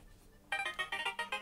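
A phone ringtone sounds loud and close, with about six quick, evenly spaced electronic chirps that begin after a brief quiet moment.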